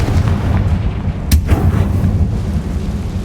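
Bombarda and Confringo explosive spells in the Hogwarts Legacy game, heard as a dense, loud low rumble with a sharp crack near the middle, close and continuous.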